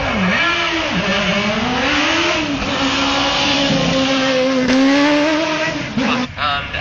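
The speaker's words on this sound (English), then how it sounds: "so you hear the totally different engine note" A loud rally car engine revs and drones continuously nearby at the Speyside Stages, pitch wavering as it accelerates and eases off, with a brief drop near the end.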